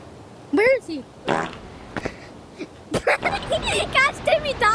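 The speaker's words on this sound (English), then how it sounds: "He farted too loud." A loud fart ripples out among kids' voices at a camping outing, with people talking and exclaiming around it.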